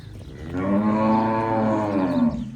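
A dairy cow, a Cholistani–Friesian cross with a calf following behind, moos in one long, loud, close bellow of about two seconds, with no voices over it.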